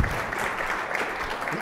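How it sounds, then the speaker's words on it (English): Audience applause at a panel event on voice technology in healthcare, a steady, dense wash of clapping from a sizeable crowd, even and sustained throughout. "let's give them a warm round of applause"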